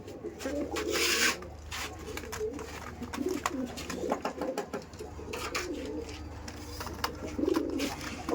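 Pigeons kept as a fancier's breeding pairs coo in soft, repeated bursts close by, with light rustling and scratching around them and steady low background hum throughout.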